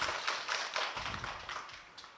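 Schoolchildren in a primary classroom clap together in a quick, rhythmic round of applause, moderately close and without talking, fading out after about two seconds.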